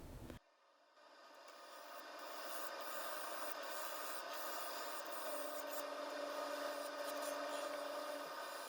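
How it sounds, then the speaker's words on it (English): A skew chisel scrapes steadily across the rim of a spinning resin-and-wood vase on a lathe, giving a constant close hiss that swells after a brief quiet start and holds level. "Here I have the skew chisel just to balance it up on the rim."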